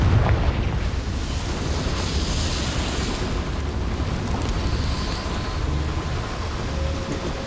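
Fiery Confringo spell blast in Hogwarts Legacy, played inside a small mine: a sustained loud roaring, rumbling explosion that carries on steadily for several seconds with a heavy low-end boom.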